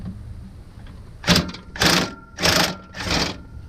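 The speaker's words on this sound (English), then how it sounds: "I have a crescent wrench on it, and we should be able to get it out now" Crescent wrench working loose a rear shock retainer bushing on a 4th-gen Camaro, four close, rhythmic ratcheting rasps about half a second apart, alone without speech.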